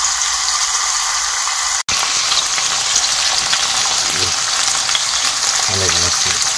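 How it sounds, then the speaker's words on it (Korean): A tomahawk steak of US beef fries in a hot pan, giving a steady, dense sizzle that runs throughout, broken by one brief sharp dropout, with a few soft clacks near the end. "뼈에 붙은 고기는 이렇게 고기를 익히고"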